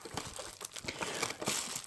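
Plastic bag wrapped around an FN 509 4.5mm CO2 BB air pistol crinkles and rustles up close in quick, irregular handling bursts, with no talking.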